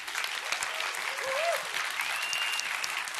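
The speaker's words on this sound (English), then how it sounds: "can we get, as a global effort, some applause for my colleagues in the audience and back home?" An audience at an augmented reality conference applauds, steady dense clapping from a large crowd filling the room throughout.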